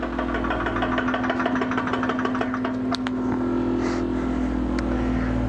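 An MVP 6CFM refrigerant recovery pump runs with a loud, steady motor drone and a strong humming tone that continues unbroken, with only a brief dip partway through.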